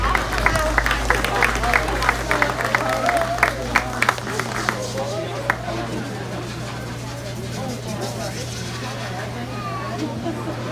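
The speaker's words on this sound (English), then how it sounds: "Let's go ahead and give all these exhibitors a nice round of applause." A hog show audience applauds the exhibitors, a loud burst of crowd clapping at the start that fades into murmuring chatter and indistinct speech in a large hall.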